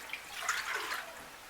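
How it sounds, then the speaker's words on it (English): Water is poured into a cooking pot for boiling groundnuts while preparing Cameroonian ndole. The pour is a soft, continuous splashing trickle, faint and close, with no talking. "So we put some water in a pot"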